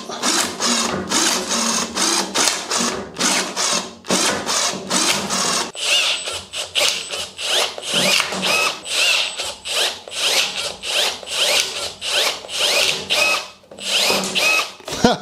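Milwaukee battery-powered pruning shears snip through a garden branch, giving a loud, close burst of rapid motorised clicking and whirring bursts that repeat steadily throughout, with no voices.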